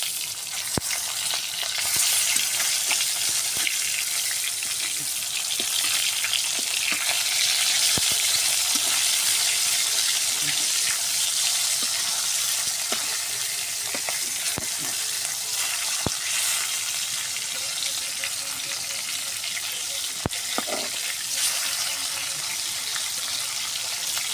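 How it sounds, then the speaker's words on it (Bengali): Pieces of fish fry in a pan of hot oil, producing a continuous crackling sizzle with occasional sharp pops and light stirring taps, steady and close throughout. "দেখেন মাছটা সুন্দর করে ভাজা হচ্ছে।"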